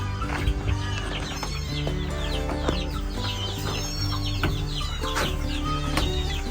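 Chickens and chicks cluck and chirp around a backyard poultry pen, busy overlapping calls at close range over a steady low hum, with no talking.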